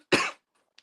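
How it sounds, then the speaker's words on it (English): A single short, sharp cough close by, followed by near silence and a faint small click at the end. "just coughing a little"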